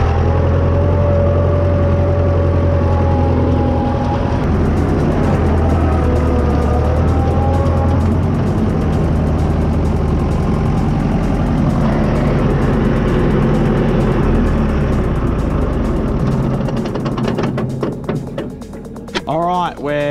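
A Fordson Major tractor engine chugs steadily at close range while parking after hedge cutting, a continuous low rumble with some pitch shifts, with wind noise and brief knocks near the end.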